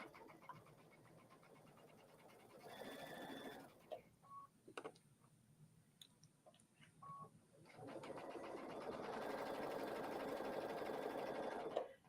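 A sewing machine stitching an appliqué for July 4th table decor, running in two steady whirring stretches with a quiet pause of small clicks and taps between them, fairly faint but close.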